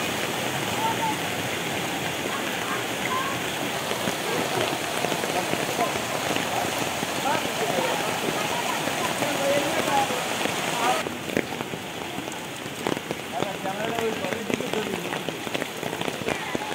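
Heavy, continuous monsoon downpour in Patuakhali after two days of nonstop rain, a dense roaring hiss of rain pounding surfaces close by, steady throughout with a slight drop in intensity near the end.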